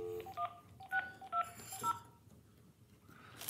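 A telephone number is keyed in as a short string of distinct touch-tone beeps, each a brief clean tone with small gaps between them, faint and close, followed by quiet.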